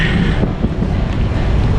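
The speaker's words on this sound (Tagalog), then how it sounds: "sobrang hangin ngayon" Strong wind buffets the microphone in a steady, loud roar throughout, with no pauses, on a walk through the Sydney CBD.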